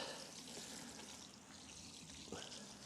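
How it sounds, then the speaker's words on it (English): Ten litres of water pour over rows of peas on an allotment in a steady, continuous close splashing wash that lasts throughout. "So I'm just going to go with a full 10 litres of water over the whole lot."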